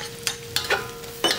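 Minced ginger and fermented black beans stir-fry in a wok for mapo tofu, a faint sizzle under a steady hum with three or four quick scraping strokes of a spatula, close and alone.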